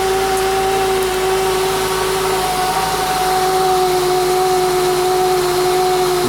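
A car engine with a low battery and a failing alternator runs steadily at idle, a loud continuous drone with a steady whine on top, and no start-up is heard.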